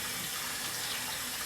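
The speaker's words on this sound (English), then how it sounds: "I am throwing the bacalao into the drainer that I have here, and I am going to rinse them out again." Salt cod, or bacalao, gets rinsed in a drainer under a running tap. Water hisses in a steady, even stream that is soft and close, with no voices.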